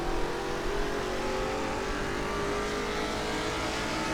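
1966 Can-Am Chaparral race cars roaring down the front straight in Assetto Corsa, a steady loud engine drone under acceleration with several engines blending together and no talking.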